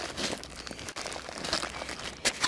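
A waterproof dry bag from a survival kit is being opened, giving continuous close crinkling and rustling of stiff fabric with a few sharper crackles and a brief pause midway.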